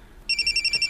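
A phone ringtone sounds for an incoming call from mommy, a loud, close electronic ring with rapid pulsing trills starting abruptly after a brief quiet moment.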